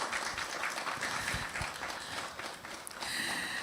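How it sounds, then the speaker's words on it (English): A panel audience at a digital dialogue event gives a brief, fairly soft round of applause, with scattered clapping that lasts a few seconds. "Please, a round of applause for her."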